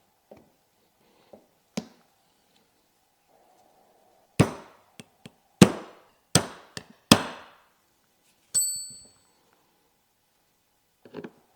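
New wiper blade being pressed into place on a Mercedes-Benz W140 600SEL V12, heard as a series of sharp plastic clicks and knocks, some single and some in quick pairs, close and alone in quiet.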